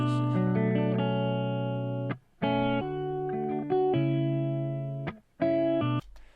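A clean electric guitar plays sustained chords with no added effects, each ringing out before brief silent gaps between phrases.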